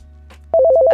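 A phone ringing in the Roblox game Brookhaven: a loud, close electronic ringtone whose two alternating tones repeat in quick pulses, starting abruptly after a short quiet stretch with a faint rustle.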